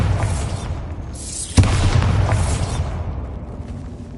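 A Bombarda spell detonates in Hogwarts Legacy on PS5 with a sharp, loud crack followed by a rumbling, crumbling blast that slowly fades, set among other booming spell effects.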